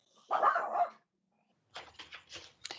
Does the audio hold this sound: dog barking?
yes